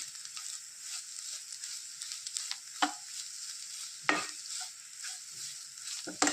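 A spoon stirs bitter gourd and egg thoran in a pan, giving a faint, steady scrape. A few sharper knocks of utensil against pan stand out over the quiet background.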